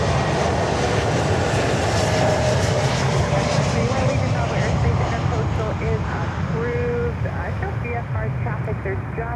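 A Volaris airliner flies over Miami airport, its engines a steady, loud broadband roar that holds throughout, with faint voices mixed underneath.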